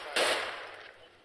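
A single loud gunshot from GTA IV during a police patrol mod, close and sharp, followed by a decaying ringing tail.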